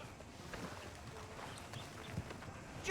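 Horse hooves clip-clop steadily at a walking pace on a town street in the game Red Dead Redemption II, a soft continuous patter under faint ambient background noise.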